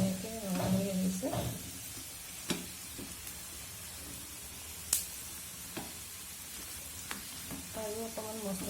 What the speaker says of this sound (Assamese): বুট দালিখিনি অকণ মচমচীয়াকৈ ভাজিম,